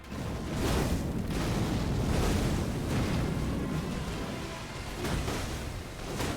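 A boss in Elden Ring: Shadow of the Erdtree unleashes a rolling barrage of explosions, deep booming blasts that swell and fade continuously without talk.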